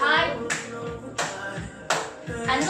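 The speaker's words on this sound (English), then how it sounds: "And you're gonna clap high" Hands clap overhead in a step-kick dance movement routine, sharp claps landing in a steady rhythm over upbeat backing music, close and moderately loud.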